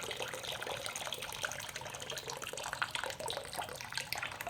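Coolant drips and trickles steadily from a Ninja 300 motorcycle during a coolant flush, a continuous close, watery splashing with no talk.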